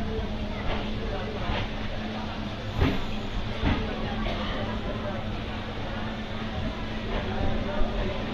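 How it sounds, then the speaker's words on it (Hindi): A local memu train arriving at Bihar Sharif Junction on the Patna to Rajgir line: steady rumbling and hiss of the carriages with a few soft clanks of wheels on rail joints, continuous and close. "तो भाई साहब अपनी ट्रेन की अराइवल हो चुकी है बिहार शरीफ जंक्शन पे"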